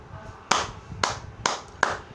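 Four slow, deliberate hand claps spaced about half a second apart, sharp and close, with a little room noise between them and no talking.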